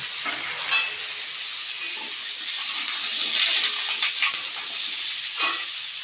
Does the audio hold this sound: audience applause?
no